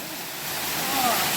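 A waterfall at a state park rushes in a steady, full broadband roar that swells slightly louder partway through, heard close by with no talking.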